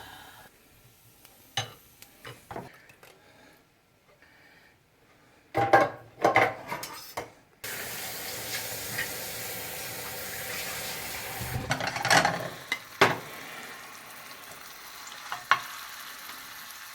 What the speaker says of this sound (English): I have it on a low flame, browning it.